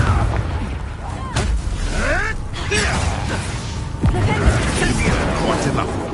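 A Confringo blasting spell explodes in Hogwarts Legacy amid magical combat, with booming impacts, creaking debris and whooshing spell effects layered over music, and a shouted voice breaking in partway.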